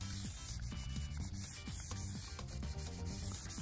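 Hand sanding a windfoil with 600-grit sandpaper on a block held at an angle to the fuselage, making steady repeated rubbing strokes, close and fairly quiet with a regular back-and-forth rhythm.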